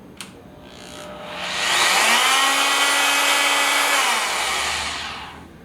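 A Porter Cable PCE606K oscillating multi-tool at its highest speed setting gives a loud, steady buzzing whine that holds for about two seconds, then winds down, heard up close with no talking.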